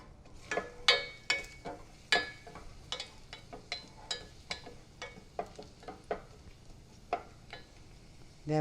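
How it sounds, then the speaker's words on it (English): Shallots sautéing in a little oil, heard as quiet crackling pops and light scrapes that recur at an irregular pace over a faint background, with no voice over them. "And I'm going to put the shallots in. I'm going to let them saute a little bit."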